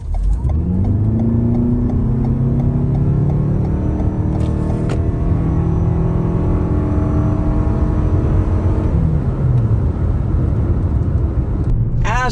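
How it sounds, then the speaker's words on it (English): Toyota RAV4 Hybrid (2019–2024) pulling away from a stop, engine and road noise rising steadily in pitch as it accelerates, heard loudly from inside the cabin. "Now let's do a quick pull here from zero so that you can see the power."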